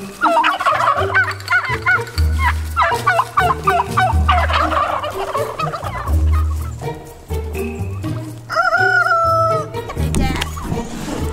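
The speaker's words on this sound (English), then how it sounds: "we took our pasture chickens out of the pasture and brought them" A flock of pastured poultry kept near a house, gobbling turkeys and clucking chickens calling loudly and close over a low rhythmic background, with a rooster-like crow near the end.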